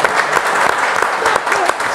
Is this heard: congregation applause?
yes